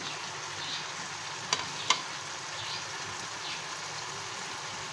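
Onions and tomatoes frying for a chicken karahi, a dense, even sizzle and crackle with two sharp utensil clicks near the middle, close and steady.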